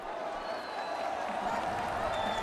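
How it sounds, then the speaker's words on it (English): Crowd noise at a Fortnite FNCS live event, a steady wash of cheering and applause from a large audience, fairly faint and continuous without talk over it. "you hear the crowd getting wild"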